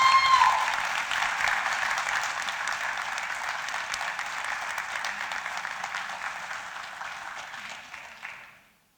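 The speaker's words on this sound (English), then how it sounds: "let's give a nice round of applause for Kay Sproles." Sustained applause from an audience at a Distinguished Educators Hall of Fame ceremony, honoring an award recipient whose daughter accepts on her behalf; steady dense clapping that fades out at the end, with no voices over it.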